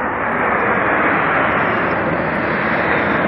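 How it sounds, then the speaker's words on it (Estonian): A jet aircraft roars overhead at an air show, a loud, steady, broadband rumble holding for the whole stretch with no voices over it. "lennukid lendavad"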